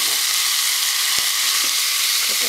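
Onions fry hard in a pan just after a splash of vinegar, making a loud, continuous hissing sizzle with a faint tap of a utensil.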